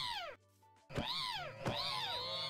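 A cat meows in a modded video game: a loud, close, drawn-out wavering meow, a brief pause, then two more long whining meows in quick succession with no talking.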